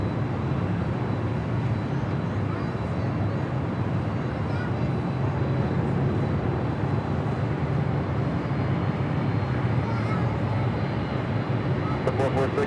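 Delta Airbus A321neo rolling for takeoff on runway 24 left at LAX, a steady loud broadband jet roar sustained throughout, with faint talk underneath.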